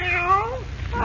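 A fawn-colored Siamese cat meows in a radio drama, with one drawn-out, wavering cry that rises and falls, heard close and alone.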